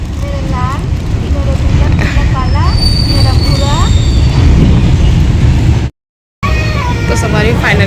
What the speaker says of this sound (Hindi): तो सवारी फाइनली हम बैठ गए हैं ट्रेन छोटा